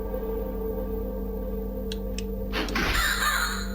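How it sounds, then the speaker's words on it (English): A crow caws twice, then a louder harsh caw sweeps down in a haunted PS1-style horror game, set over a steady droning ambient hum. "Oh no, it might be a crow actually."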